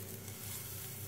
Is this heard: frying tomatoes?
yes